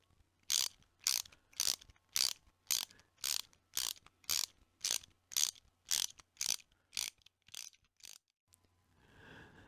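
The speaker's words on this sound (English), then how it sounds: "you'll need to set up a 3/8 inch ratchet with about 9 inches of extensions and a 10mm socket" A 3/8 inch ratchet fitted with about 9 inches of extensions and a 10mm socket turns a bolt on a VW Golf/Jetta MK4 tail light, giving a steady series of about sixteen crisp, close clicking bursts.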